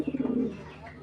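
Khaki fancy pigeons kept for flying give a short, soft throaty coo with a quick pulsing start that fades out, heard close with no voices.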